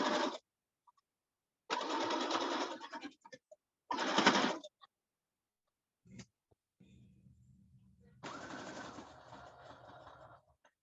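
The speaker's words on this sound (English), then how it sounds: "sewing on the end to get a nice nice looking hem" A sewing machine stitches a pant hem in short bursts of whirring, separated by pauses, with a quieter, lower hum running beneath the final burst.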